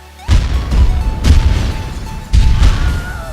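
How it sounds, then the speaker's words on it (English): Heavy booms and blasts from explosions in the Crackdown 3 video game, rising abruptly after a moment of silence and returning in a second loud burst, with rumbling low-end energy throughout. "the explosions behind me are better than the explosions in Crackdown 3"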